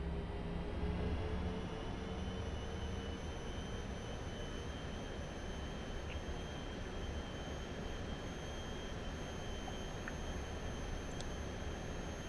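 Airbus A320 jet taxiing toward the runway in the AeroFly FS 2 flight simulator: a steady, loud low engine rumble with a thin high whine, continuous and unchanging, with no talk.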